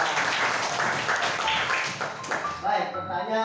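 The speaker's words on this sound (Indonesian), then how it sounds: "Benar, berikan tepuk tangan." Applause in a classroom during a teaching practice lesson, a short burst of many pupils clapping together under noisy room chatter, fairly close and steady before fading.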